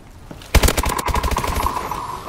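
Rapid automatic gunfire in Call of Duty: Advanced Warfare Gun Game mode, a loud burst of close shots after a brief quiet start, with a steady tone running underneath.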